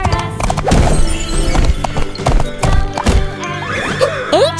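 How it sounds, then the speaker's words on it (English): A horse whinnies and hooves clip-clop in a steady rhythm, loud and close, with repeated thumping hoof beats under a rising neigh near the end, over a busy musical background. "H for horse."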